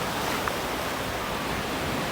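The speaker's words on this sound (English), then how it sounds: "You can hear the waves crashing in." Ocean waves wash onto White Sand Beach on Koh Chang, Thailand, a steady, broad rushing surf that fills the air continuously, with no voices.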